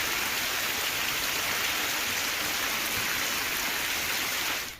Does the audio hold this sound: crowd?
no